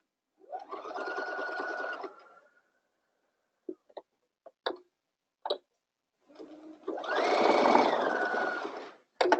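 A sewing machine runs in two bursts as it stitches reinforcement on the panty of a ballet tutu. Between the bursts come a few sharp clicks and taps, and there is no talk.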